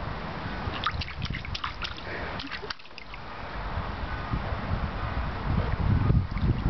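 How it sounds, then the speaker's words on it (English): Water sloshes and splashes in a swimming pool, with continuous close dribbling and lapping plus a few small drips, fairly soft and steady throughout. "Splash, splash."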